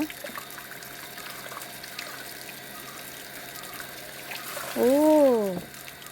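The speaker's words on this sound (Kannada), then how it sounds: "ಆಗ ಇದು ತುಂಬಿದ ನೀರು ಅದರ ಮೇಲೆ ಬಿದ್ದು ಅದು ತಿರುಗುವಂಥದ್ದು" Water trickles and splashes steadily onto a turning water wheel, then a brief louder gush pours down near the end alongside a rising-falling tonal whine.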